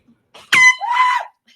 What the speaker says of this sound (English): he sneaks up behind her, and he blows the air horn.